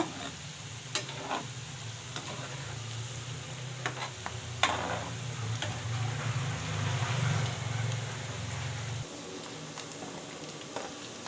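Banana flower pakoda frying in oil gives a steady sizzle with scattered clicks and scrapes of stirring, and the bubbling eases off near the end.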